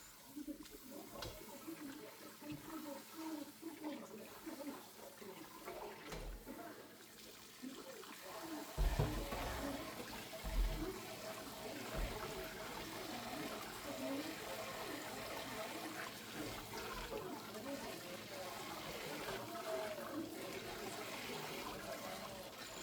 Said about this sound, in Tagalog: hanguin na po natin at huhugasan natin sa malamig na tubig